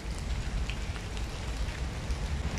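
Steady rain falls across Romanescu Park in autumn, a continuous close hiss of drops pattering on surfaces with no pauses and no voices.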